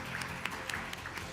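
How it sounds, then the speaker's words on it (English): An audience at an awards ceremony for women entrepreneurs gives faint, distant applause, a quiet steady patter of clapping throughout. "Big round of applause for Neha, please."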